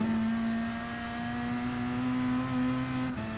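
A race car engine in a racing video game holds a steady, even drone at close range, then cuts off abruptly near the end.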